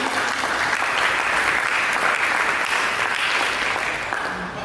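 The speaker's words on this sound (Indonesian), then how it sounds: "Berikan tepuk tangan bagi" A church congregation claps during a sermon in an Indonesian service. The applause is loud and continuous, a thick, even roar of many hands that eases off only slightly at the end.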